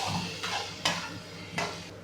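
Tomato pieces frying in a pan, a soft sizzle broken by a few sharp utensil scrapes and knocks against the pan, close but fairly quiet.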